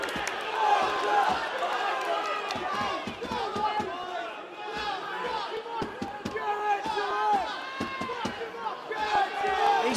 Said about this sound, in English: The crowd are urging Elcock to try and come forward